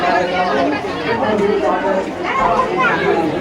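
A crowd of worshippers at Kapileshwar temple in Madhubani, with a steady, close murmur of many overlapping voices and no single voice standing out.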